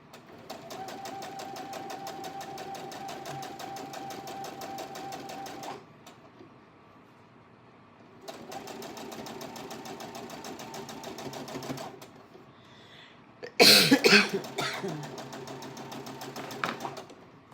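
A sewing machine chain pieces quilt fabric in two long steady runs of rapid stitching separated by a quiet pause, followed by a louder burst of clatter near the end.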